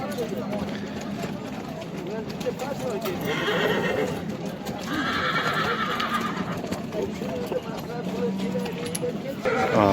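A horse whinnies loudly in short bursts amid busy crowd chatter and hoof clatter at an outdoor horse market in Özgön, Kyrgyzstan, the scene noisy throughout.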